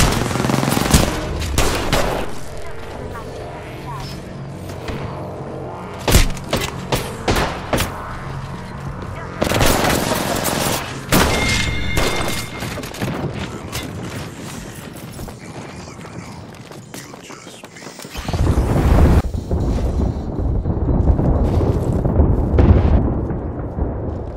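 Gunfire in a squad shooter video game, heard as dense rapid bursts of automatic fire and sharp repeated shots with explosive booms, loud and continuous through most of the stretch, with player voices under it.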